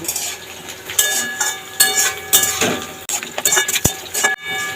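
Potatoes and green chillies fry in a pan with oil, coconut, nuts and bay leaf for a banana-flower dish, giving a steady close sizzle broken by stirring scrapes and a few utensil clinks.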